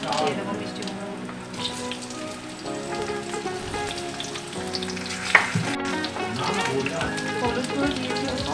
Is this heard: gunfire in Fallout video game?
no